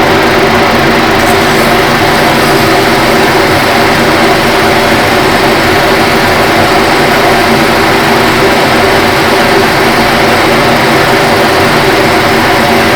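A lathe runs with an abrasive roll pressed against the workpiece, producing a loud, harsh, continuous roar of grinding noise with a steady motor drone underneath. The sound is close and unbroken, with no speech.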